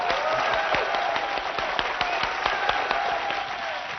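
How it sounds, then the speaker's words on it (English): Studio audience applause for a magician, a sustained, even patter of many hands clapping with a few sharper individual claps standing out, steady from start to finish. "Give him another round of applause"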